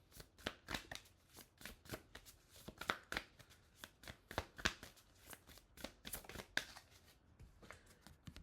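Tarot cards being shuffled by hand, giving repeated crisp flicks and riffles in an uneven rhythm, close and fairly quiet, with no speech.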